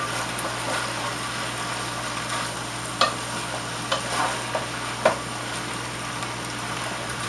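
Vegetables, including a whole red pepper, are stirred in a hot pan over a steady low sizzle and hum. A few distinct scraping clacks of a utensil sound close by.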